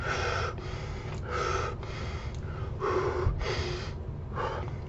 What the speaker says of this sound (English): in through the nose, out through the mouth, like that